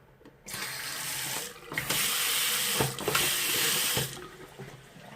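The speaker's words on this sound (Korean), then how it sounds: "봤으니까 물 한번 틀어볼까요?" Water gushes from a bathroom tap and shower head in a small studio apartment, loud and close, switching on and off several times in short bursts with brief quiet gaps.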